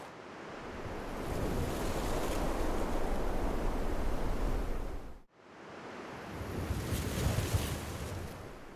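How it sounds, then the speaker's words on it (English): Game ambience of gusting wind with rustling leaves: a broad, steady rush that swells, drops almost to nothing for a moment, then surges back with bursts of leafy hiss. "whenever a wind gust starts, we'll tell the leaf rustling sounds to play for a couple seconds"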